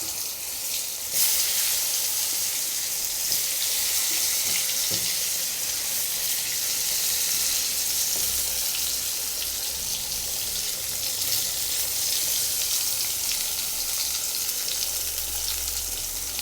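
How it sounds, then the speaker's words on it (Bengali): Eggplant slices fry in hot oil in a wok, giving a loud, steady sizzle with a broad hiss that runs unbroken through the whole stretch, without speech. "এখন এর মধ্যে বেগুনগুলো দিয়ে ভেজে নেব"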